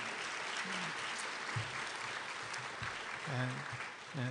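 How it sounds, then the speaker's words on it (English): An audience applauds steadily, a dense wash of clapping with a few brief voices and shouts rising through it. "How about a big round of applause for them?"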